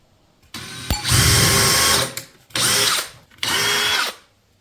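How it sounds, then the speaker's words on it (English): A power drill pre-drills holes in wood in three bursts, the first longest, each spinning up and winding down, close and loud with no speech. "I'm going to pre-drill these holes because I don't want it to split"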